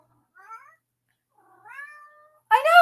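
A cat gives two soft, short meows close by, then lets out a louder, harsher yowl at the end.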